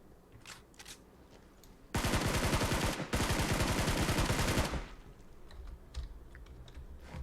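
Rapid automatic gunfire in PUBG Mobile, a loud close burst of evenly spaced shots lasting a few seconds with a brief break in the middle, set against quieter game ambience with faint distant pops.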